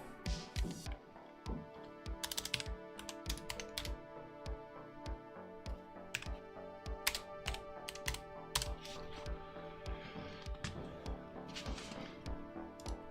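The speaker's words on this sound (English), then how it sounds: "My keyboard." A computer keyboard is typed on steadily, with dense clicky keystrokes in irregular bursts, close and fairly loud over faint background music, with no speech.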